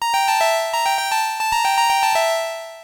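Synthesizer patch sounding a bright buzzy tone, a quick run of short staccato notes repeated rhythmically, close and loud with no voices.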